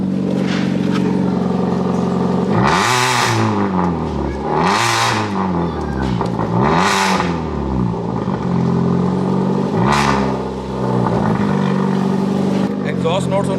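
Superbike exhaust revving in neutral, four rising and falling throttle blips over a loud rumbling idle, close and powerful, with someone talking over it.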